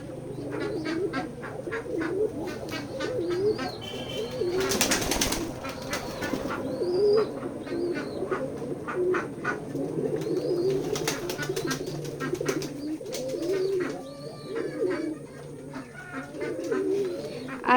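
Flock of pigeons at a village pigeon farm in Keshabpur, Jashore, keeps up continuous close cooing with occasional chirps, while a burst of flapping wings breaks through briefly partway in.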